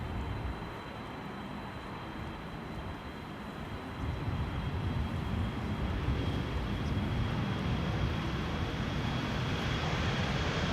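A KLM Cargo aircraft operated by Martinair departs Schiphol's Polderbaan runway 36L for Dubai World Central with a dense, steady jet roar that grows gradually louder and stays continuous throughout, without speech.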